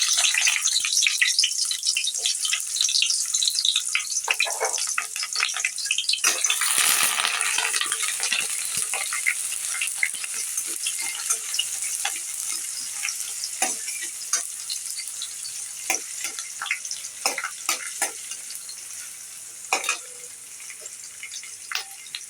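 Spice paste hits hot oil in a pan for a pumpkin and prawn dish, giving a loud, steady crackling sizzle with a sharp surge early on, then continuous frying with occasional clinks and stirring scrapes.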